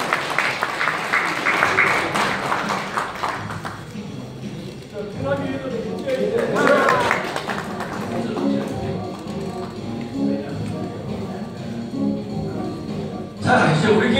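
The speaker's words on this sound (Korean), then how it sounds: "다시 한번 큰 박수 부탁드립니다" Audience applause at a national security strategy group leadership workshop in Andong, with a burst of clapping at the start and again near the end, while a voice talks over much of it.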